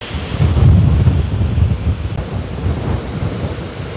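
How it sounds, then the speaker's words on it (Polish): Strong wind roars in broadband gusts with a deep rumbling low end, steady and loud throughout with no voices. "Zrywa się okropny wiatr."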